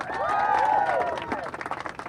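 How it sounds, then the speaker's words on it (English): An outdoor crowd at a bottle bill press conference outside the Massachusetts State House bursts into cheering and applause, loud and close at first, then breaking into scattered claps. "Let's hear a huge cheer for Phil Segal and Jim McCaffrey and the Sierra Club."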